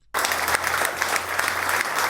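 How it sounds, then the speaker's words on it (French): Applause from an audience bursts in suddenly after a brief silence, then continues as dense, even clapping. "par des chaleureux applaudissements."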